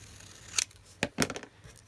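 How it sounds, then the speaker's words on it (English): Scissors snip paper for a journal page, a few sharp crisp cuts in quick succession, close and clear in a quiet room. "I'm going to come in with my scissors"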